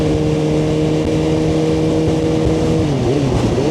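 Suzuki GSX-R1000R motorcycle engine at high speed in fifth gear, a loud steady drone with strong wind rush and a slight pitch drop toward the end.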